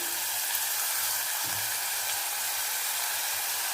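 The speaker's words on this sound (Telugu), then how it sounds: "ఇందులో కరివేపాకు కూడా వేసేద్దామండి" Curry leaves hit hot oil along with fried green chillies, producing a dense, steady hiss and sizzle with a brief louder spatter near the start, close up with no talking.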